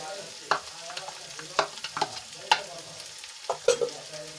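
Chopped onions fry in oil with a chili and garlic paste for a boiled potato curry, giving a low steady sizzle broken by several sharp scrapes and stirs of a spoon against the pan, close by and alone.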